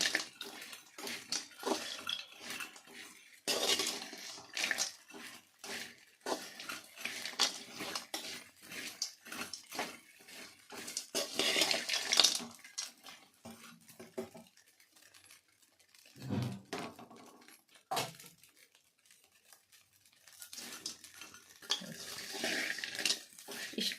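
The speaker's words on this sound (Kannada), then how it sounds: "ಬುರುಡೆ ಎಲ್ಲ ತೆಗೆದು ಕ್ಲೀನಾಗೆ ಒಂದು 5 ಸಲ ವಾಶ್ ಮಾಡಬೇಕು" Dried fish being washed by hand in water in a kitchen, with sloshing, splashing and rinsing, occasional clinks of a pot or bowl, and brief pauses between rounds of washing.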